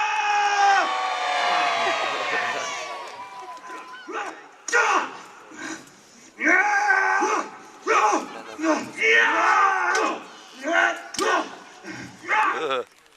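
A crowd at Warwick Castle shouts and cheers in loud bursts, a big rousing roar at first followed by several shorter waves of yelling.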